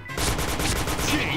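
Rapid automatic gunfire from the first-person shooter Point Blank, a close, steady burst of evenly spaced shots lasting over a second.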